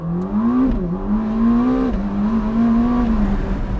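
A 2022 Ferrari SF90 Spider hybrid accelerates hard in first gear. Its engine makes a loud, close, rising whine-roar that dips briefly as the pitch shifts, then climbs steadily again. No voices.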